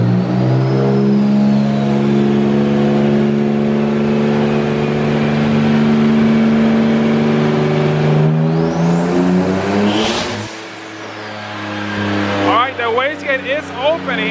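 Turbocharged BMW E36 race car engine revving hard during a boost test pull, a loud close, sustained drone with a rising turbo whistle, a sudden drop off throttle, then choppy revving bursts.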